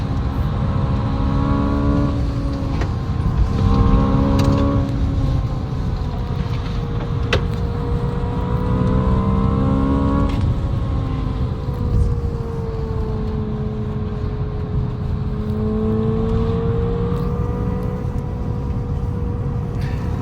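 A Hyundai Ioniq 5 electric car driving home from a race track, with a continuous loud interior road and motor drone and whining tones that rise and fall with speed.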